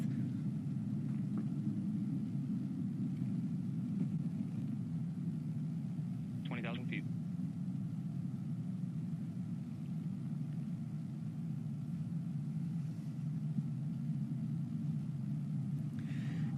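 The New Shepard rocket's BE-3 engine during ascent, a steady, distant, low roar that holds constant throughout, with a faint brief chirp partway through.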